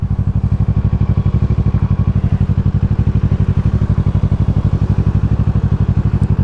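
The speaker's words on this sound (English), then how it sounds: "Oh, it's a motorcycle cop." A police motorcycle engine throbs loud and close with a steady, rapid pulsing beat and a rough clattering edge, holding even throughout.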